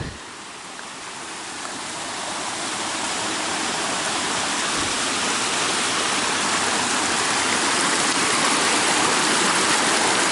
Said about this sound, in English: the streams are beginning to converge the lower we get